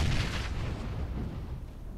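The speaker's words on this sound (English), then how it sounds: "So I'm hoping maybe that grenade will either make them run away" A grenade blast in PUBG on Xbox, a loud low boom at the very start that rolls off into a long rumbling decay with no talking.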